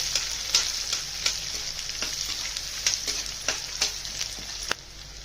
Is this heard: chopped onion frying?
yes